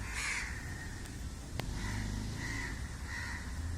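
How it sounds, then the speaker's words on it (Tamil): Crows caw repeatedly in a steady rhythm, somewhat distant, over a faint background hum. "பறவைகள் விடியற்காலை எழுந்து விடுகின்றன"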